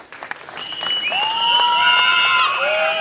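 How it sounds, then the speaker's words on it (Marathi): An audience claps at a BJP political rally in Jat, broad steady applause that swells and holds, with rising tonal whistles or calls layered over it. "टाळ्या वाजवा यांच्यासाठी."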